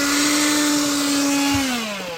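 A discarded vacuum cleaner found while dumpster diving in Korea runs with a loud, steady motor whine, then its pitch drops as it winds down near the end.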